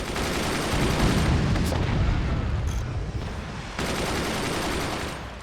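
Shotgun weapons firing in the fort-building video game Forts: a dense, loud barrage of overlapping booming shots that swells, briefly thins, then resumes with renewed force, with no talk heard.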